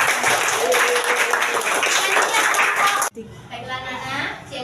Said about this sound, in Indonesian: Tepuk tangan yang banyak.